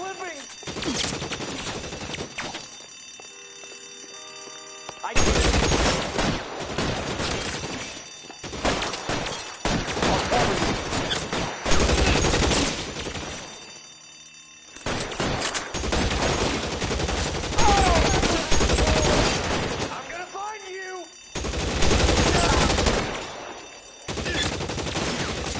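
A gunfire shootout in the L.A. Noire video game, with repeated loud volleys of shots in bursts separated by brief lulls, machine-gun-like stretches, and voices calling out between the firing.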